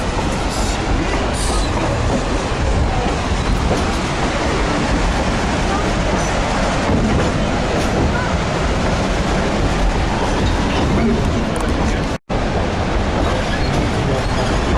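A narrow gauge train on the Durango & Silverton railroad rumbles steadily along the rails with a continuous loud roar and faint rhythmic clatter, briefly cutting out near the end.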